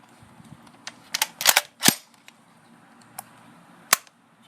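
A gas blowback SCAR-L airsoft rifle fires with sharp, dry snapping pops, including a quick cluster of rapid shots and a few isolated cracks against a quiet background.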